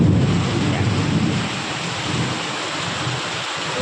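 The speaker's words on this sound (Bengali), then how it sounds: "মেঘ ডাকছে, দেখা যাক" Thunder rolls in a deep, drawn-out rumble that is strongest at first and then slowly fades, beneath loud and steady storm rain heard from inside a house.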